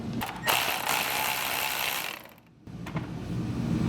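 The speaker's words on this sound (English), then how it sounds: "I'm guiding the socket with my index finger in order to get it on top of the nut." A socket ratchet loosens a nut on a 2019-2024 RAM 2500/3500 HD truck, rapid close-up clicking in a long burst, a brief pause, then more ratcheting.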